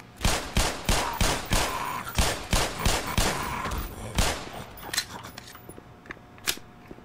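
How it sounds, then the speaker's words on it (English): Rapid gunfire bursts with sharp bullet impacts ricocheting off surfaces in the first-person shooter Black Mesa, a Half-Life remake; a dense volley of loud, evenly spaced shots gives way to a few scattered, fainter pops. "Love the bullets impacting the environment."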